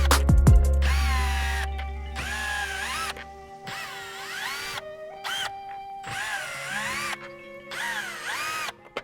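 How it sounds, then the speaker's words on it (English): A power drill removes T15 screws from the top of a car's rear bumper, giving several separate high, whining bursts of spinning motor with short pauses between them, close and clear. "remove these T15 screws along the top of the rear bumper"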